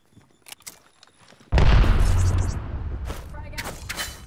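A sudden blast followed by sustained firing and a rumbling tail in an Apex Legends match, preceded by a few faint clicks and with scattered sharp shots continuing as it fades.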